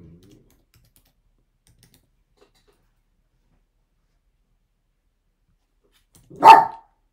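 A small dog lets out one short, sharp bark close to the microphone, breaking a long stretch of near silence.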